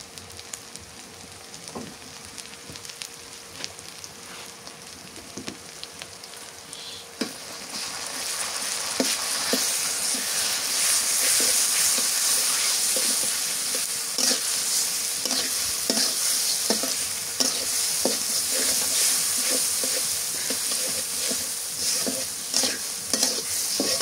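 Spices with salt and turmeric stirred and fried in a pan: a steady close sizzle with repeated scraping stirs that grows louder and hissier partway through, no voices.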